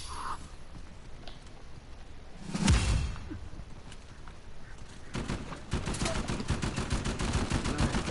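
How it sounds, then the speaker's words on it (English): Gunfire in Uncharted 4 multiplayer: a loud burst near the middle, then a steady rapid rattle of shots through the final seconds, over low game ambience with no talking. "they always shoot at me"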